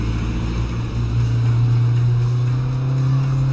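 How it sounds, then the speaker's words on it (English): A steady, loud engine drone with a constant low hum runs throughout, no talking over it. "I know this car is so loud."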